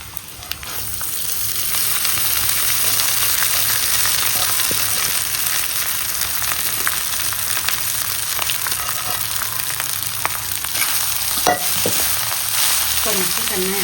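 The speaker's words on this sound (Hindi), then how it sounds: "हल्दी डाली मैं इसमें, इसके अंदर चावल डालें।" Rice with turmeric frying in a pan while being stirred: a loud, steady sizzle throughout, broken by occasional close scrapes and taps of the spoon against the pan.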